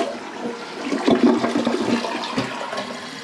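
A Glacier Bay 635675 toilet flushes on its second flush button: a loud, close rush of water swirling and draining that lasts the whole stretch, with a few gurgling surges and no talk.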